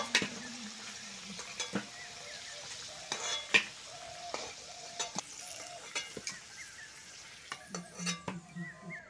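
Potatoes fry in oil in a pan, a soft sizzle under scattered spatula scrapes and light metallic clinks against the pan, fairly quiet and close.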